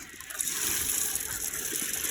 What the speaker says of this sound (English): So you just have to take it up and pour it gently